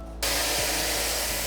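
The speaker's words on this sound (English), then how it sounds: "let's get to spraying it to see if it produces the same foam." An SPTA electric foamer starts up and sprays foam, a loud, steady hissing whoosh that switches on abruptly and runs unbroken to the end, with no voices.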